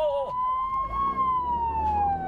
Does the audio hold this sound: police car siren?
yes